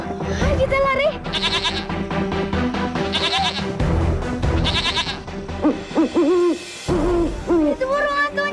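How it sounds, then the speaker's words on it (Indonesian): Owl hoots sound among layered music and cartoon effects in an animated legend, with high tonal calls recurring through the first half and voices speaking over the end. "Suara burung hantu."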